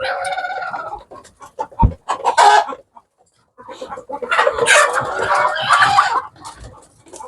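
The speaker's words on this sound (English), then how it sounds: "So this is the very first hen that started laying on eggs." A hen, the first on the farm to go broody and now sitting on guinea fowl eggs, clucks and grumbles close by in uneven bursts, with a brief quiet gap midway and busier, louder clucking toward the end.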